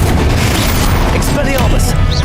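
A Confringo blast in Hogwarts Legacy lands as a loud, booming burst within dense, continuous combat noise, with brief whooshing magical tones over a heavy low rumble.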